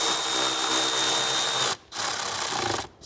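Power driver with a T25 bit snugging plastic screws on a Mercedes-Benz M276 airbox, a steady close whir that stops briefly and starts again, then cuts off near the end, with no voices.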